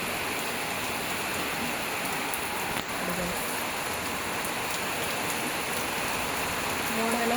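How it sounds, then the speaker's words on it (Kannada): The first rain of the season falls on a village as a dense, even patter on surfaces, continuous and fairly loud throughout with no clear voices. "ಇವತ್ತು ಮಳೆ ಬಂದಿದೆ ನೋಡಿ, ಎಷ್ಟು ಚೆಂದ ಉಂಟು."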